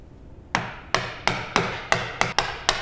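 A mallet strikes a wood chisel to crack off waste on a practice joint, eight sharp, evenly spaced knocks ringing close and alone.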